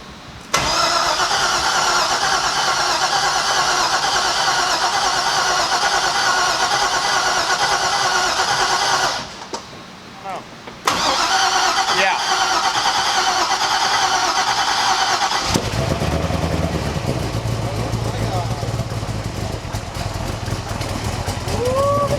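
A twin-turbo Chevrolet Corvette C6 Z06 engine cranks and fires on its first start, running loud and steady, briefly dropping out, then catching again and settling into a rough idle with whining overtones.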